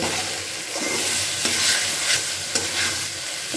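Sticky mashed yardlong bean paste stirred with a spatula in a hot pan, a steady close sizzle broken by repeated scraping strokes and soft thuds.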